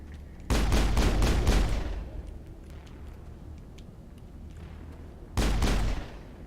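Missiles fire and explode in the video game Mass Effect. A loud burst of blasts rolls for over a second, fades into a low rumble, and then one more heavy explosion hits.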